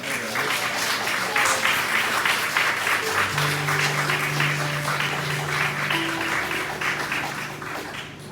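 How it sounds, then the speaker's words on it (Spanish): A church congregation applauds in praise, a dense wash of many hands clapping steadily for several seconds, with sustained musical tones from an instrument entering beneath it and the clapping slowly thinning toward the end. "Dele un aplauso al Señor."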